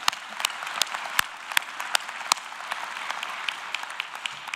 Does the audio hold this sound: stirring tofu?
no